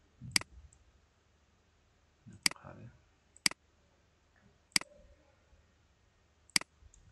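Computer mouse clicks during a chain-hook assembly in CAD software: five sharp, isolated clicks spaced a second or so apart, close and crisp, with faint shuffling between them and no talk.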